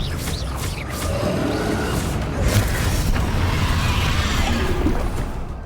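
The Confringo explosive spell is cast in Hogwarts Legacy, a dense rumbling boom with whooshing bursts that stays loud and continuous throughout.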